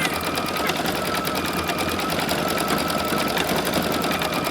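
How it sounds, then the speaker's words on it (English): A sewing machine runs a decorative stitch on a quilt with a fast, even mechanical whir and chatter, loud and close, continuing without pause for the whole stretch. "then it's just going to do a little decorative stitch"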